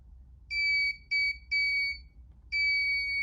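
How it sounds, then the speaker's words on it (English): The buzzer of an ultrasonic distance sensor project sounds four times, as an object comes close. The tones are sharp and steady, with three quick beeps, a short pause and then a longer fourth tone, and no one speaks. "the buzzer's going off"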